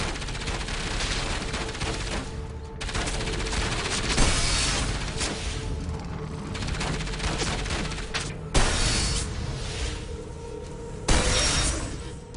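Gunshots go off in the action game Enslaved, heavy bursts of gunfire and booms repeating amid continuous game sound effects, loud and close.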